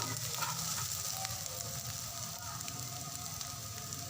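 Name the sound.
garlic and onion frying in a pan for shakshuka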